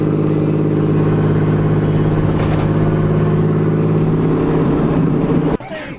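A car engine running with a loud, steady mid-range drone close by, the tone holding even for several seconds before cutting off abruptly near the end, with no talking.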